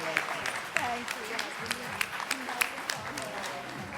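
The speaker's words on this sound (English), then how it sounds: "So a big round of applause for Suparna Gupta." Applause at a women's awards ceremony honouring a social worker, steady clapping from the crowd with scattered sharper claps, heard beneath a voice speaking over it.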